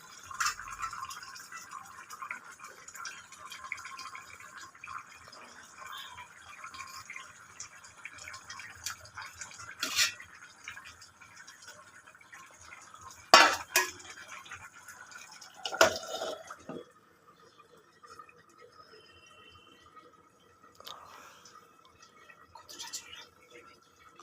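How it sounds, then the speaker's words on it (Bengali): Fish pieces drop into a simmering curry (jhol) and a lid goes onto the pot, with soft bubbling and dripping throughout, a few sharp clatters of metal partway through, and faint voices at times. "মাছগুলো দিয়ে দিলাম, এবার ঢাকা দিয়ে দিলাম।"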